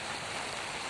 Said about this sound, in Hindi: बारिश लगातार वहां पर हो रही है